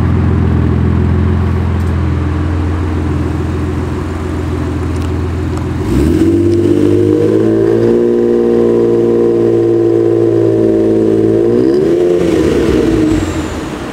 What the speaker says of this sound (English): The exhaust itself is really, really, really deep